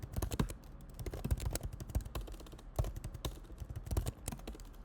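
Rapid typing on a computer keyboard, close and continuous, keys clicking in quick irregular bursts.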